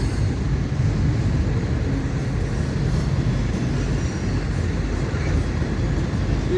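FEC Train 101 freight train pulling out of Jacksonville, Florida at night, a steady low rumble of rolling railcars carrying on continuously at moderate distance with no talk.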